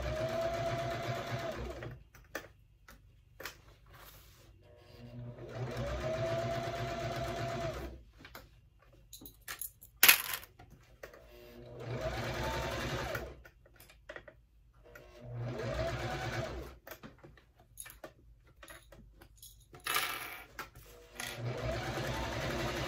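Domestic sewing machine stitching seams on a budget bag, running in several sustained bursts of steady motor whir and rapid needle chatter, separated by short pauses with faint handling noises.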